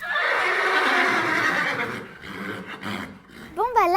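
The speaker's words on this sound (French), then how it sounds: "c'est au tour des poneys, on les entend de très loin" Ponies at a small animal park whinny loudly and close by, calling out at feeding time with long shaky neighs. A voice talks over them toward the end, and a sharp warbling call cuts in at the close.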